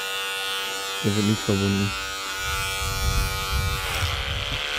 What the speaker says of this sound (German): der Rasierer! Der kämpft mega!